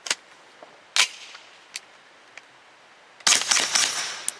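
A Grand Power Stribog firing subsonic 150 grain ammunition gives several sharp, fairly muted reports spaced a second or so apart, then a denser burst of cracks near the end.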